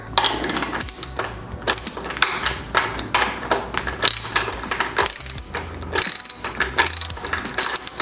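Rapid metallic ratcheting clicks from a socket wrench, loud and close, coming in repeated bursts with brief pauses between strokes.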